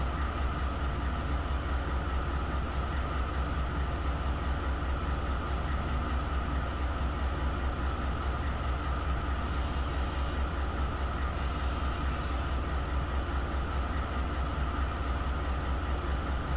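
A container freight train in Run 8 Train Simulator rumbles steadily as it gathers speed on a downgrade, with a continuous low drone and a few short high hisses partway through.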